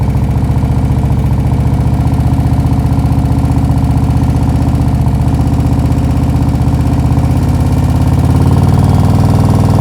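A motorcycle engine runs loud and close in a steady low throb, held at slow riding speed with the clutch slipped and the brake dragging, swelling slightly near the end.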